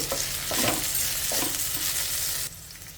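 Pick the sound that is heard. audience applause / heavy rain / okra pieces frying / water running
okra pieces frying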